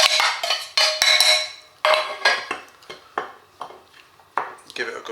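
A utensil scrapes and clinks against a bowl while flour and dry ingredients for buttermilk chicken strips are stirred together, producing a series of sharp, close, rhythmic clattering strokes that gradually soften.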